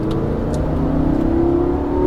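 Lamborghini Gallardo at full throttle on a Las Vegas track, a steady mid-pitched engine roar with a rising whine as it accelerates, loud and close, with no talking.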